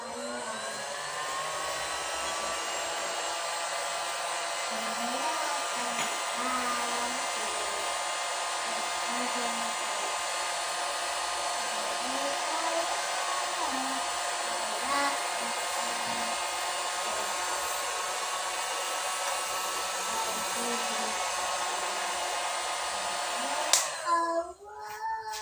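Heat gun warming a KS i950 mountain bike dropper post during servicing, a steady blowing motor whine held at a constant level for over twenty seconds before it clicks off near the end.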